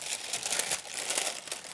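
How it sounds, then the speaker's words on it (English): Parchment paper crumpled and crinkled while lining a baking dish, close and continuous rustling crackle in uneven bursts. "we're lining the dish with the parchment paper"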